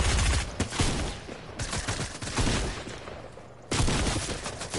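Dense, loud automatic gunfire from the video game Fortnite rattles in sustained volleys with brief pauses, close and continuous throughout.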